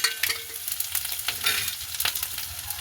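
Green chillies sautéing in a hot pan for a crab curry, a steady close sizzle and crackle with occasional stirring scrapes, no voices.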